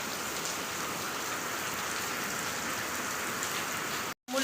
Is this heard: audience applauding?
no